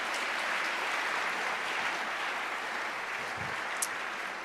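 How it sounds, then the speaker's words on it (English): An audience at an engineering event gives the panelists a steady round of applause, many hands clapping in a continuous, even wash for several seconds with no speech. "please give our panelists a round of applause"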